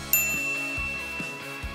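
Notification bell ding sound effect: one bright, clear chime struck near the start and ringing out with a long fading tail, alone and fairly loud.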